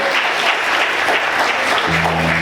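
A church congregation claps loudly and continuously, a thick, even roar of applause that holds for the whole stretch, with a low sustained hum entering near the end.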